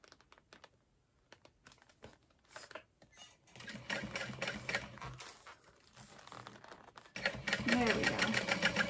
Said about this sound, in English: like before I sew it on twice